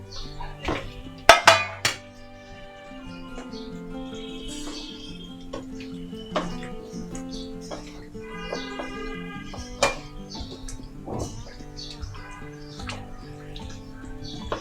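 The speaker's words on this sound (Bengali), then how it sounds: "এখন আমি সাথে দিচ্ছি আলু আর একটু গোটা রসুন" Potatoes and whole garlic cloves go into a cooking pan, making a cluster of loud clatters and clinks near the start, followed by lighter scattered taps and kitchen noise.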